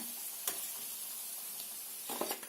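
Cabbage pakodas frying in oil, a soft, steady sizzle heard alone at low volume, broken by a couple of brief clicks.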